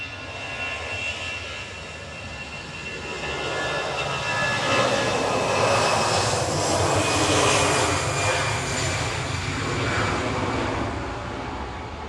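EasyJet airliner departing Manchester Airport on a flight to Venice, its jet engines roaring steadily and building to a loud, broad rumble that holds through the middle before easing slightly, heard at a distance outdoors.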